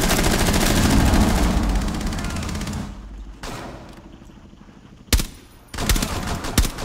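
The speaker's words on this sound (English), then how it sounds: "Two guys on the balcony. They're shooting through the rear windows." Rainbow Six Siege gunfire through rear windows: dense rapid automatic bursts roar loudly at first, thin into scattered shots, then break out again in sharp, close cracks and short volleys.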